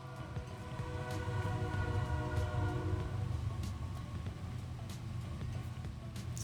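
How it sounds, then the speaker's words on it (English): Train in a video game rumbling past at close range, a continuous loud rolling drone with faint clicking over about six seconds, no talking. "It's the train."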